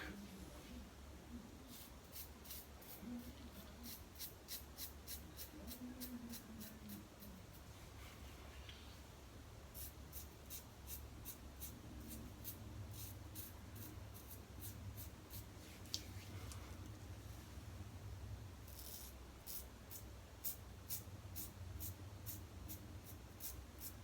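R41 razor scraping across a lathered head in a steady run of quick, faint strokes and rasps, close to the mic against a low background hum.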